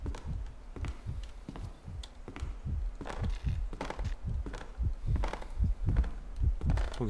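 A loud, steady heartbeat from a Five Nights at Freddy's fan-made horror video game, thumping as deep, paired, evenly spaced beats over a low hum for several seconds.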